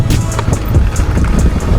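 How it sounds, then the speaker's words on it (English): Strong wind buffets the microphone in heavy, rumbling gusts on a UK enduro mountain bike trail, with rattling and rolling noise underneath throughout. "Right, I'm gonna squish this because it's super windy"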